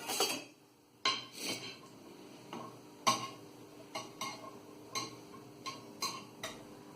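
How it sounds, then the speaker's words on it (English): Sharp, irregular knife strikes chopping vegetables on a cutting board, about a dozen distinct chops with short pauses between them, close by with no talking. "chopping different kind of vegetables while making your favorite dish"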